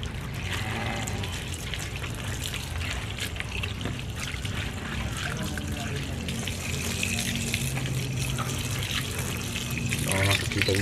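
Running water splashes and trickles over a snake plant being washed, a steady close gush that swells near the end, with a voice talking over it.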